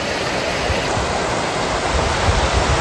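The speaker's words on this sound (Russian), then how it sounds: "прийти вот сюда, к горной речке, к водопаду" Mountain river and waterfall in the Pyrenees after rain, a steady loud broadband rush of falling and flowing water, continuous and close with no voices.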